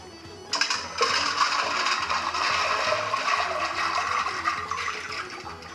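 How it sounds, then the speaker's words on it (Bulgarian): Dry beans tipped into a pot of water on a stove: an abrupt, close, continuous splashing and rushing pour that starts suddenly and keeps going for several seconds. "Нека да поставим боба."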